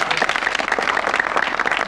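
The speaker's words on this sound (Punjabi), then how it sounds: "ਕਲੈਪਿੰਗ ਹੋਣੀ ਚਾਹੀਦੀ ਹੈ" A crowd claps at an army selection ceremony honoring students of a physical training academy, brisk scattered clapping close by that stays steady for the whole moment.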